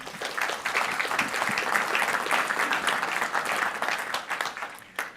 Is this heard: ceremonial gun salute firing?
no